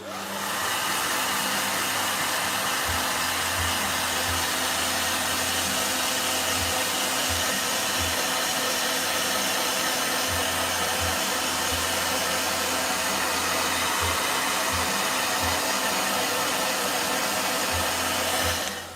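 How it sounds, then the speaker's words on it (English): A blow dryer runs steadily and loudly from start to finish, a constant close airy roar with a low motor hum beneath it and no talking. "Blow dryer."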